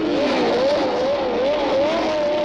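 Formula One cars at the start of the British Grand Prix, in wet conditions on treadless tyres, produce a loud, continuous high-pitched engine howl that wavers up and down in pitch.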